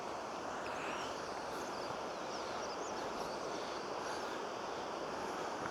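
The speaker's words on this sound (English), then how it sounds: "we've just come across our first waterfall" A waterfall on a river in a wooded valley gives a constant broad rush of falling water, steady and fairly close, with birdsong faintly audible above it and no talking.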